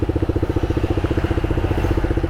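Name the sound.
motorcycle exhaust sound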